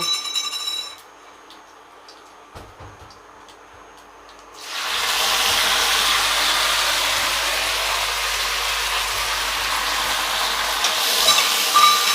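After a quiet start with faint taps, a loud, steady sizzle bursts up as black cumin and pumpkin flowers hit hot oil, then holds as a broad continuous hiss.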